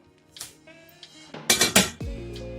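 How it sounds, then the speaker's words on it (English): A large metal frying pan with a lid is handled in a home kitchen: scattered clinks, then a burst of rattling metal clatter and a final clunk as the pan settles. "Now I have a bigger frying pan here"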